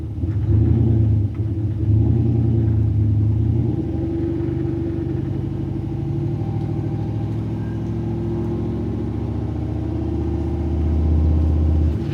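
A vehicle engine rumbles under throttle, a loud, low droning growl that swells and eases slightly in pitch, close and continuous without voices.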